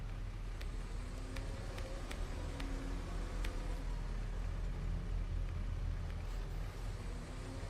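A video game car's steady low engine rumble drones throughout with constant broadband noise and faint clicks, like a vehicle cruising at even speed.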